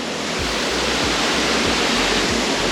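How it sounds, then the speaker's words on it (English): A massive waterfall beside a cliff near Ella, Sri Lanka, roars as a loud, unbroken wash of broadband noise, close and steady throughout, with a low rumble beneath. "Camping next to a massive waterfall and cliff."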